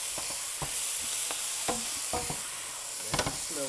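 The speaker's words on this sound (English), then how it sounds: "So now I'm gonna let it saute a little bit" Collard greens sauté in a hot pan, giving a steady bright sizzle broken by sharp knocks and scrapes of a utensil stirring, close and moderately loud, with no talking.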